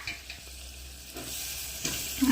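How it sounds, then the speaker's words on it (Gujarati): Peas and potatoes go into a pan of frying onions and get stirred, making a soft sizzle with a few scraping strokes and a louder clatter at the end. "મારી મમ્મી એમાં એડ કરે છે વટાણા અને બટેટા"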